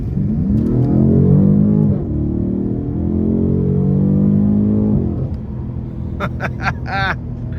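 Loud engine roar building and holding as a 2019 BMW M850i accelerates hard at full throttle, then easing off, with sharp crackles and pops from the exhaust at the end.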